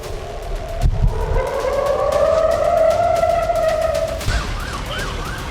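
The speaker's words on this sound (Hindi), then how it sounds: "हर गली में सायरन की गूंज" Air raid sirens wail through Israeli city streets, a loud rising and falling tone holding steady for several seconds before shifting into a faster warbling pattern, with street noise underneath and no voices.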